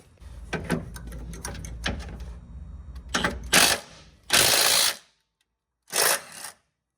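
A rattle gun fitted with a socket works on the top of a Holden Rodeo / Colorado / Dmax shock absorber during a 2 inch Fullcrum lift kit install, giving loud short bursts of impact whirring between softer clicks and handling noises.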